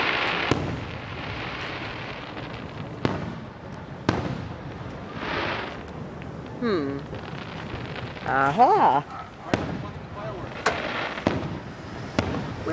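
Fireworks booming at intervals, sharp bangs with crackling tails over a steady background hiss, and a person briefly speaking between bursts.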